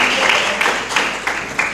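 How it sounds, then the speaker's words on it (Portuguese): Audience clapping for the Bailinho das Raparigas folk dance group at Terra Chã in 2020, a loud wash of applause with regular rhythmic accents pulsing roughly three times a second. "peço-vos agora uma grande salva de palmas"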